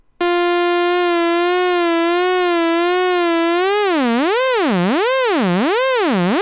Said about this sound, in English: Now we'll modulate the frequency of that sawtooth wave with a sine wave from